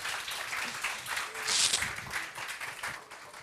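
Audience applause at a university hackathon finale, moderate clapping from a crowd with a brief swell in the middle, slightly distant.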